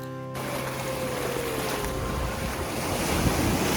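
Steady roar of surf at Las Casas Filipinas de Acuzar beach in the Philippines, with wind buffeting the microphone, a continuous wash of breaking waves that swells slightly louder toward the end.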